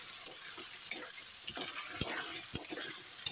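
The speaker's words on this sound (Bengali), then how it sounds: "মশলাটা এখন দেওয়া হয়ে গেল, ভালো করে কষিয়ে নেব মশলাটা আস্তে আস্তে" Masala of cumin, ginger, garlic and onion fries in a pan for biryani, a steady soft sizzle broken by a few sharp spatula scrapes and taps against the metal, close and fairly quiet.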